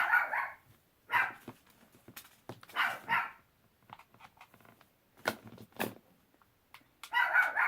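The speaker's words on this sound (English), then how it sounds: "I apologize for the barking." A dog barks repeatedly in short bursts, fairly close, with uneven pauses between the barks and a few softer yips in the gaps.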